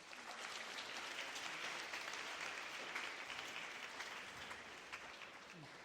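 Audience applause at an alumni meet-up, a faint but steady wash of clapping from a group, continuing evenly for several seconds.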